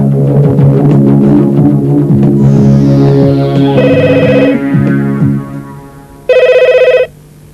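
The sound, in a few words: telephone ringing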